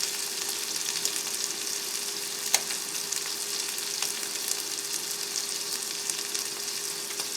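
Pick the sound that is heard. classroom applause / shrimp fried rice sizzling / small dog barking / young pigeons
shrimp fried rice sizzling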